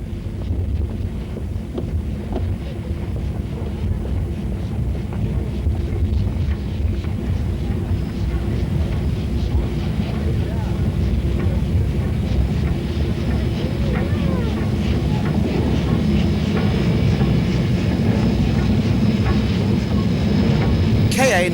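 Steam locomotives KA 942 and KA 953 reverse to couple onto a special excursion train bound for Rotorua, giving a steady, continuous low rumble and chuffing roar mixed with wind noise, with no speech.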